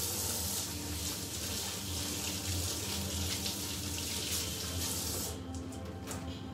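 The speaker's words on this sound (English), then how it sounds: "Rinse the hands off." Tap water runs steadily into a sink while hands are rinsed after slicing silverside beef for biltong and chilli bites, a broad continuous hiss that eases slightly near the end.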